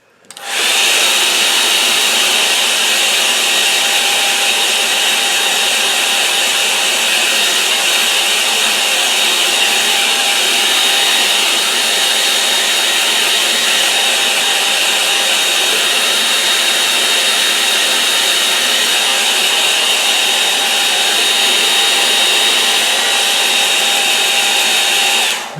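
A hair dryer blows on a freshly painted watercolour snow scene of an Essex field, giving a loud, close, unbroken whooshing hiss that runs on steadily with no other sounds.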